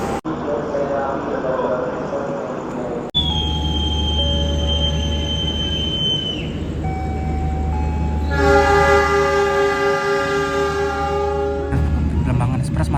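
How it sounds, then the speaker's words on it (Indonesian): The Argo Bromo Anggrek express train from Gambir to Surabaya Pasar Turi rumbles past close by, sounding a long sustained multi-tone horn midway, with wheel noise and a bright squeal, and some voices underneath. "di sini kita bertemu dengan kereta api Argo Bromo Anggrek dari Gambir tujuan Surabaya Pasar Turi"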